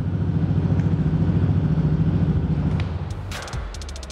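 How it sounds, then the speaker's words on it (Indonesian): Yamaha NMAX scooter, an older series model fitted with a modified exhaust, idling up close with a deep, round, pulsing burble before the engine cuts off near the end. "Knalpot. Bulat, bunyinya bulat-bulat."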